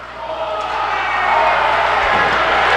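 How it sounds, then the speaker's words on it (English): A big hockey crowd at a Westfield vs Riverside NVSHL game lets out a steady, swelling roar of cheering that grows a little louder through the moment, with no clear voices standing out. "Massive crowd getting into it"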